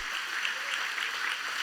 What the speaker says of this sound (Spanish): Dele ese fuerte aplauso a nuestro Padre Celestial.